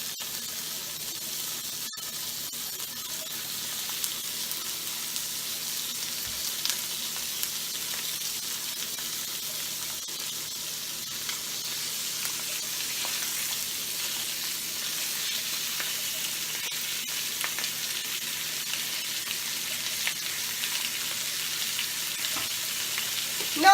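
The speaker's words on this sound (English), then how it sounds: "we're going to sear these about 2 minutes on each side" Boneless skinless chicken thighs searing in hot oil, giving a steady, even hiss of frying that carries on without pause at a moderate level, with no talk.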